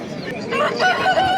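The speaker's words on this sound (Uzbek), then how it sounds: "mana tovuqlar" Decorative chickens and a rooster at a poultry market, with clucking and a crowing call rising over crowd noise in the second half; faint background talk.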